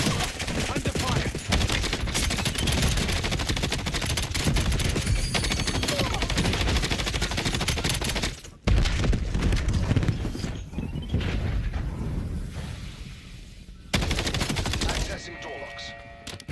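Sustained Call of Duty gunfire in a game firefight, a dense continuous rattle of shots that breaks off briefly and then resumes at full loudness.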